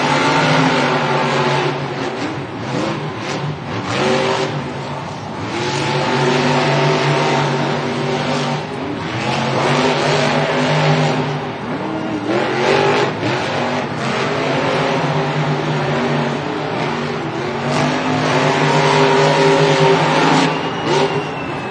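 Monster trucks racing in a stadium, their huge engines roaring and revving in loud surging waves, with occasional tire squeal and crowd noise blended into the din.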